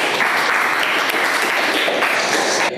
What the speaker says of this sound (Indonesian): kita tepuk tangan buat semuanya.